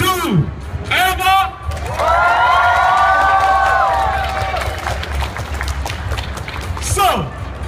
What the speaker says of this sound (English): please clap out loud, applause out loud, and yell out loud